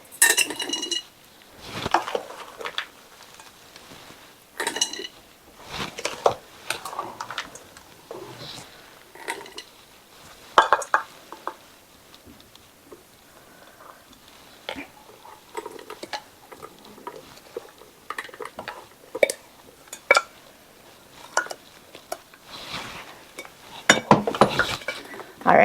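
Homemade dry baking mix is scooped into small Dollar Tree glass jars, with a busy run of scraping, clinking and tapping of scoop against jar and container, irregular and close, continuing for a long stretch.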